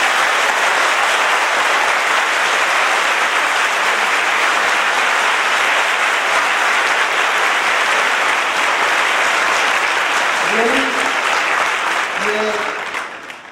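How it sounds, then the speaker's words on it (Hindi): A large audience applauds a teacher at a civil services guidance event, dense loud clapping sustained for about twelve seconds, with a few voices surfacing near the end as it fades. "उन्हीं के लिए एक जोरदार ताली आप सबको बजाएं"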